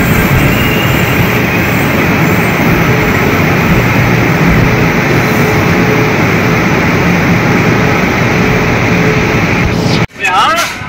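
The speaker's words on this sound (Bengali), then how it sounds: "এটা এক্সপ্রেস ট্রেন" An express train rushes past with a loud, steady roar of wheels and wind that holds for about ten seconds, then cuts off abruptly into a brief burst of nearby handling noise.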